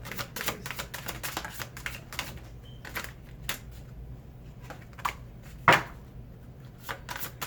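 Tarot cards shuffled and drawn by hand, heard as a close run of crisp papery flicks and taps with one sharper snap near the end, no voices.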